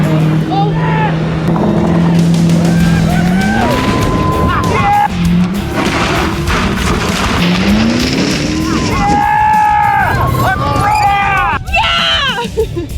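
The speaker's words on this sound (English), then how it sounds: "I hear the engine revving up like crazy" A stretch limo's engine revs hard and high, pitch climbing and dropping in repeated surges, with tire squeals near the end and people talking excitedly over the roar.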